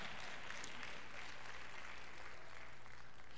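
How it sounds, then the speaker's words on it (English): A church revival congregation claps in a faint, distant, continuous patter of applause with no talk over it. "You ought to clap if you sit near one right now."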